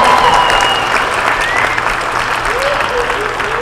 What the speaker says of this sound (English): How about another round of applause for Billy Babs?